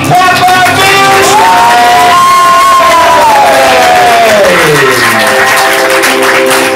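Audience at a ComedySportz comedy show cheering, whooping and clapping loudly and steadily throughout, with shouts over the crowd noise and a voice or tone rising and falling through the middle.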